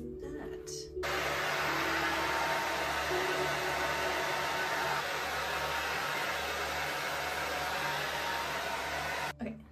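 A hair dryer set to warm on low blows in a steady, loud broadband rush that starts after a brief quiet moment and cuts off near the end.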